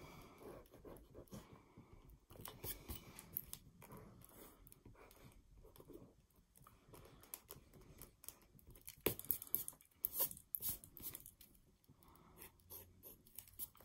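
A pencil eraser scrubs back and forth across paper while tidying a perspective castle drawing, soft close-up rubbing strokes coming in quick irregular bursts with brief pauses.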